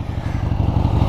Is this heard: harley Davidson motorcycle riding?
yes